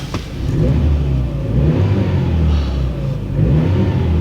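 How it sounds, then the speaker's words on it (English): A Peugeot RCZ-R engine revs with a deep, throaty exhaust rumble, rising and falling steadily close by. "A little bit of a rumble from the exhaust."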